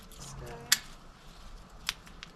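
Pruning shears snap through a branch on a potted fruit tree in two sharp, close clicks about a second apart, over low background noise and faint voice.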